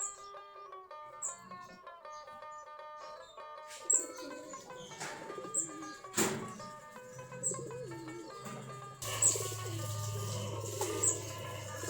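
Native Giribaj pigeons basking at the coop door while some squabble, giving intermittent soft cooing and sharp chirps, with a few thumps and a louder, noisier stretch near the end.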